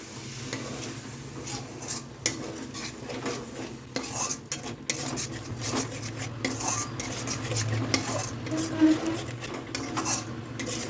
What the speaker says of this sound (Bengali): মশলাটার সাথে তরকারিটা পুরো ভালো করে মিশিয়ে দিতে হবে।